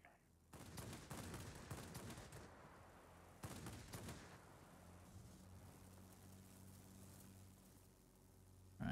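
In a Wargaming video game, an aircraft strafes with machine gun fire in two long bursts of rapid crackling shots, separated by a short gap and followed by a quieter engine drone.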